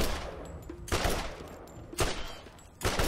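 Gunfire from a weapon in the Borderlands video game, several loud bursts of rapid shots spaced about a second apart, each ringing out briefly before the next volley.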